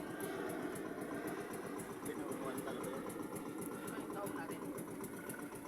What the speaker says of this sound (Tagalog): Compressor yun eh